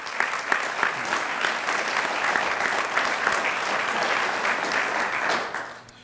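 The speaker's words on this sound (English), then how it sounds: "Let's have a round of applause for all these great grant recipients." An audience claps for grant recipients at a foundation's annual meeting, a dense burst of applause from many hands that holds steady for several seconds before tapering off at the end.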